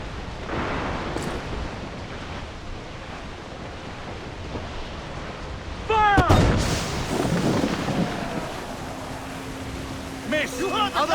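Ship cannons fire in the naval pirate game Assassin's Creed IV Black Flag, with a sudden heavy boom partway through over wind and sea noise. Crew voices shout around it.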